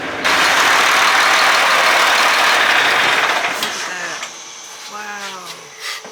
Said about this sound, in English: That thing is loud. What kind of engine is that?